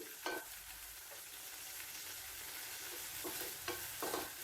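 Dried prawns crackle and sizzle in hot oil in a pan, a faint, steady frying hiss with a few soft scraping stirs, no voices.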